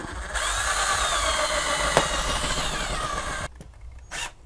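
A power drill bores a hole through house siding, sheathing and drywall while wiring a doorbell chime, a loud steady whine lasting about three and a half seconds before it stops, followed by brief quieter handling noise.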